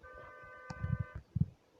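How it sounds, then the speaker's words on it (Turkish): A car horn honks in a short electronic blast over low rumbling game sounds, followed by a couple of dull thumps. "Şimdi korna çaldı."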